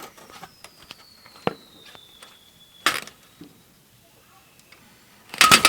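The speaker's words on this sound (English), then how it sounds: "Yep, whistling fireworks." Whistling fireworks on the Fourth of July: a long, thin whistle glides slowly downward, then sharp crackling bursts go off, with a few scattered pops and another whistle fading before a loud final crackle.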